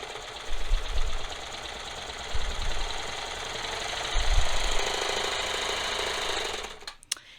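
A serger sews a shoulder seam in steady bursts, a fast mechanical whir with low rumbling pulses, running for several seconds before stopping with a couple of clicks.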